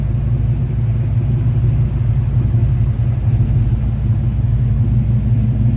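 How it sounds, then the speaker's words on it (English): A 1937 Ford pickup street rod with true dual exhaust idles with a deep, steady exhaust rumble, loud and close, running evenly without revving. "True dual exhaust. Again, great sounding truck."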